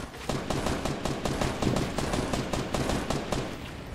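Rapid bursts of automatic gunfire rattle continuously and loudly in a shooter video game, dense and sustained without pause.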